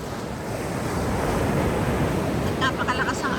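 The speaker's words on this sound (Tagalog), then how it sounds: "Napakalakas ang alon kasi surfing area to" Powerful surf pounding a surfing beach, a loud, continuous wash of breaking waves and rushing water with wind buffeting the microphone, and a faint voice drifting in toward the end.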